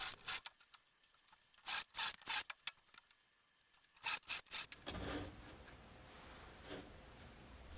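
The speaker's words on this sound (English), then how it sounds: "for something this small I just use my simple jig and a 5mm drill bit" A 5mm drill bit bores shelf pin holes into wood through a simple jig, a run of short bursts of grinding, rasping whir with brief pauses between holes, then quieter rustling as the work is handled.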